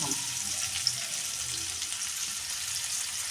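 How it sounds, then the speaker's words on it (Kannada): Spices frying in oil for a hill gooseberry dish make a continuous, even sizzling hiss close by, lasting the whole short stretch without clear speech. "ಈ ಥರ ಎಣ್ಣೆ ಫ್ರೈ ಮಾಡಬೇಕು"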